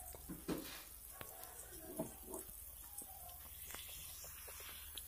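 Margarine melting in a Teflon pan before eggs are fried, a faint, steady sizzle with soft scrapes and light clinks of a utensil, quiet and close.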